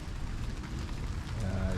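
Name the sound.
water drops dripping from trees in misting rain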